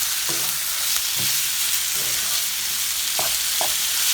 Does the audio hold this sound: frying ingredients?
yes